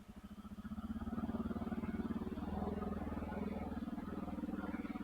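A motorcycle engine idles and runs close by with a steady, rhythmic low thumping rumble that rises slightly as it revs gently, with no talk.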